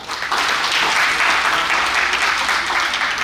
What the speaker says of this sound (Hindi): श्रीमती राजा पालन मैडम के लिए जोरदार ताली।